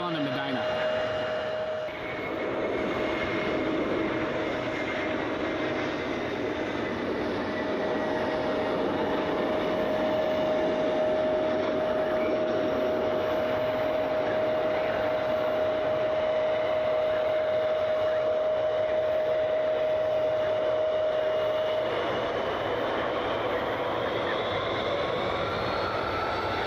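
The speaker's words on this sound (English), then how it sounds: "Delta Flight 2210, A321 out of Atlanta is our next inbound flight" A Delta A321 airliner from Atlanta arrives at Cleveland Hopkins International, its engines a steady, broad roar that holds for nearly half a minute, with no voices over it.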